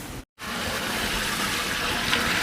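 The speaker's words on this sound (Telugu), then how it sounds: "ఐదు పాత్రలు నీళ్ళు పోసుకోవాలి పోసేసుకుందాం" Water gushes steadily into a cooking pot for rice after a brief break at the start, making a close, continuous pouring splash with no talk over it.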